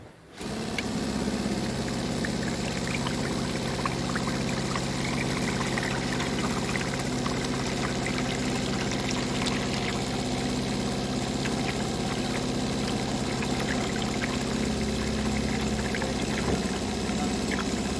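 Bee feed syrup runs through a flexible hose from a simple automatic feeding setup, a steady continuous pouring and pumping rumble that stays loud and even throughout, with no talk.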